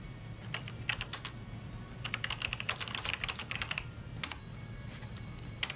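Rapid bursts of typing on a computer keyboard, clustered keystrokes separated by short pauses, close and fairly clear over a steady low background hum.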